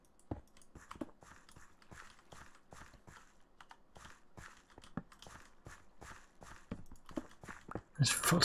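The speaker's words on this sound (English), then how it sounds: "I'm sure I heard footsteps and you weren't moving" Footsteps in the Minecraft video game, a run of soft, evenly spaced steps in a quiet room, ending in a brief loud burst.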